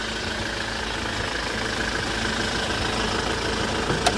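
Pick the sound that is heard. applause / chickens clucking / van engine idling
van engine idling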